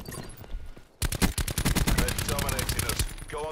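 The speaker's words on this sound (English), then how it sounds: "I'm getting shot through the wall." Rapid automatic gunfire in the Black Ops 4 video game, a long rattling burst of closely spaced shots after a brief quieter lead-in, with a voice talking faintly near the end.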